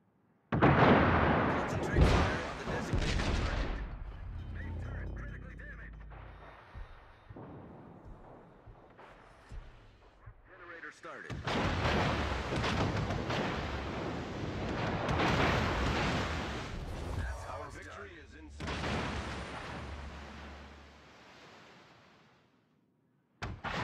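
Warship naval guns firing in a World of Warships battle, heavy booming salvos and explosions in several long rumbling bursts with quieter gaps between them.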